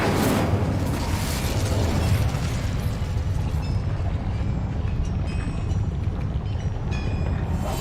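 Incendio fire spell cast in Hogwarts Legacy, a loud whooshing burst at the start that settles into a sustained roaring, rumbling flame sound fading gradually.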